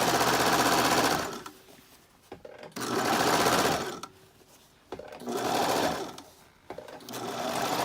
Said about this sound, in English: when you're using a serger at the end of the line, I'm just going to keep sewing for a while